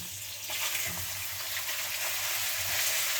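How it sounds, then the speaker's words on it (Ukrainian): Pieces of pork fat sizzle in a hot frying pan with a continuous loud, bright crackling hiss, punctuated by small pops and occasional stirring, close and steady throughout with no speech. "Хто любить симфонію шкварчання сковороди"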